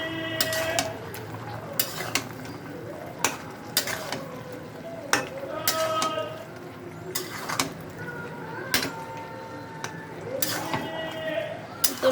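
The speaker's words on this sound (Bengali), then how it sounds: "এখন আমি একটু লাউটা নেড়ে দিব।" A spoon stirs bottle gourd in a cooking pot, sending sharp metallic clinks and scrapes against the pot at irregular intervals, with quieter soft shuffling of the vegetables in between.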